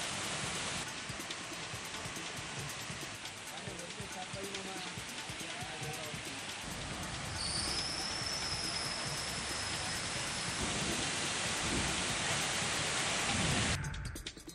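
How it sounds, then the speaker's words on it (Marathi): Heavy cloudburst-like midnight rain with thunder pours over Kalamnuri town, a loud, steady broadband hiss of downpour that swells slightly toward the end, with voices faintly beneath it. "मध्यरात्री ढगफुटी सदृश्य पाऊस झाला"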